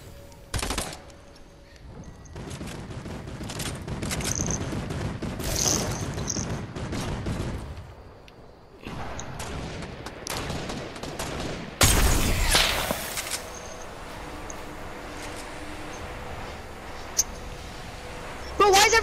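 Bursts of gunfire in a Fortnite match, rapid volleys and sharp single shots in uneven clusters with mouse clicks, mostly heard under excited talking from players.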